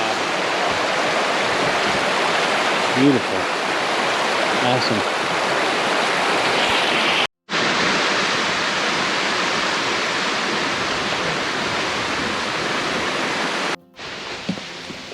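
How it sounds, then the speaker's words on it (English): Hurricane Creek at Pictured Rocks on a windy, rainy day, a loud, continuous roar of rushing water close by, briefly cut twice, with a few short spoken exclamations over it. "This must be Hurricane Creek"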